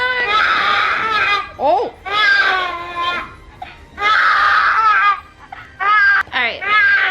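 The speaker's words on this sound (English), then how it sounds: "Baby's crying." A baby cries loudly in repeated bursts with brief pauses between, close to the microphone, with an adult briefly speaking.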